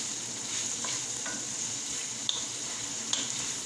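Brown stew chicken bubbles and sizzles in a pot as it is stirred, a steady close frying hiss broken by a few light spoon clinks against the metal. No voices.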